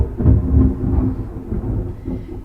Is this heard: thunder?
yes